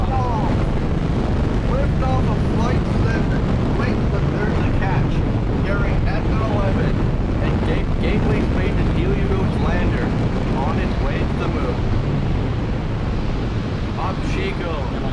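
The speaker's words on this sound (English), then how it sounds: "Engine ignition. and liftoff." Starlight Flight 7 rocket engine ignition and liftoff, a loud, continuous broadband roar with crackling texture, buffeted by wind on the microphone and steady throughout, with voices speaking underneath.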